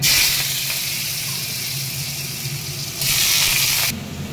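Diced potatoes sizzling in hot oil with dried chili and cumin, a loud, steady hiss that swells again briefly near the end, with no talking.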